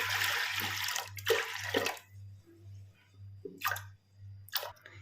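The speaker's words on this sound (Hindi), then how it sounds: "अब इसमें हम पानी ले लेंगे।" Water poured into a pressure cooker holding chana dal, a few short splashing bursts with gurgling in between, close and fairly quiet over a steady low hum.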